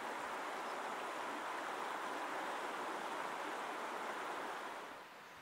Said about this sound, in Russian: Вскоре наш путь преградила река, бурным потоком стремящаяся навстречу к Бухтарме.